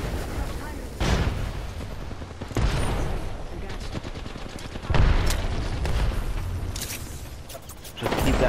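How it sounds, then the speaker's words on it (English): Grenade blasts in Apex Legends, several heavy booms spaced a few seconds apart amid gunfire and game noise, with voices talking over parts of it. "Grenade."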